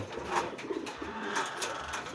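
Soft pigeon cooing repeats a few times over steady background noise, fairly close, with no talking.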